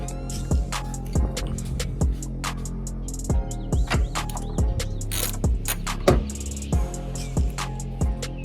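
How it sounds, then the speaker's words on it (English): A ratchet works loose the coilover top bolts on a 2013 Scion FRS, giving short clusters of sharp metallic clicks and knocks at irregular intervals, close up, with no speech. "I'm just gonna unbolt these 3 bolts up top"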